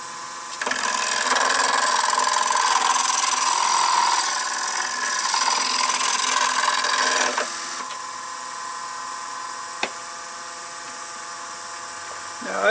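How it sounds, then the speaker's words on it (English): A shallow gouge cuts into spinning wood on a lathe while toy wheels are turned, giving a loud, steady scraping buzz for several seconds before it stops and leaves a quieter motor hum. "I'm going to start with just a shallow gouge"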